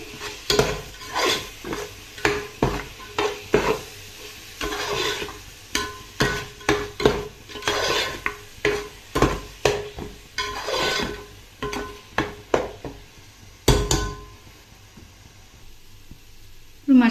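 Spiced masala with salt and chilli for a sea fish curry is stirred in a pan, a steady run of rhythmic scraping and clinking strokes over a low sizzle, ending with a louder clank.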